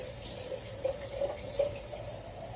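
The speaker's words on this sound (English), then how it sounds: "You want to fill it up with water." Tap water running steadily into an empty marinara jar in a home kitchen, a continuous close rush with a few brief surges of splashing.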